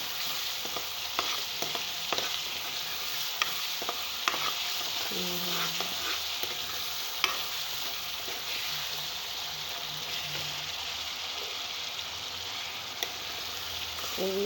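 Ginger garlic paste is stirred into chicken frying in a pan for a curry: a steady moderate sizzle broken by repeated spoon scrapes and sharp knocks against the pan, with no voices.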